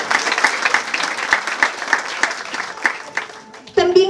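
Guests at the opening of a community kitchen and dining hall applaud in a loud, dense round of clapping, with a voice speaking over it and continuing clearly after the applause fades.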